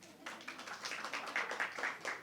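An audience claps after a story at a literature festival gathering, a light, scattered round of hand claps that grows into a rhythmic patter, faint and somewhat distant.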